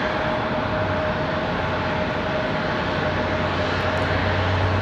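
Boeing 747-8I airliner at Raleigh-Durham International Airport, a continuous broadband jet-engine roar with a steady low hum, loud and unbroken throughout, no voices.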